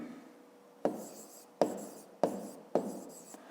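Pen strokes writing math notation for a fifth-grade geometry exercise on rays, four short scratchy marks tapping onto paper at a steady pace, close and quiet, with a muffled voice faintly underneath.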